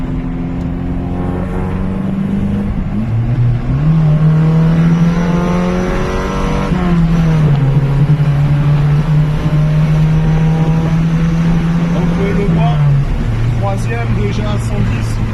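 A sports car accelerates hard, its loud engine drone climbing in pitch and dropping back at each of several gear changes. The engine stays close and steady throughout, with a voice faintly underneath.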